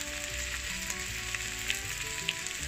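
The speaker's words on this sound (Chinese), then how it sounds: "现在我们下入青椒、红椒，翻炒均匀" Green and red peppers stir-fried with chicken slices in a hot pan, an even close-up sizzle with light crackles and occasional stirring taps.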